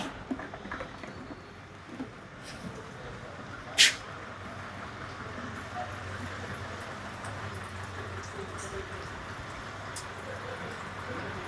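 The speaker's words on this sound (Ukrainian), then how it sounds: "відкручуємо пробку, вставляємо лійку і заливаємо" Grade 95 petrol is poured through a funnel into the fuel tank of a Konner&Sohnen KS 15-1E generator, a soft, continuous gurgling trickle heard close up against low background noise, broken by one brief sharp knock.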